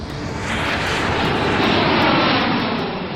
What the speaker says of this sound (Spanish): el vuelo 447 de Air France despega de Río de Janeiro con rumbo a París